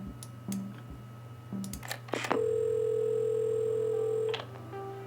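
A telephone dial tone from the puzzle game Assemble with Care, preceded by a few soft clicks and handset handling, then a steady, loud continuous tone lasting about two seconds before cutting off.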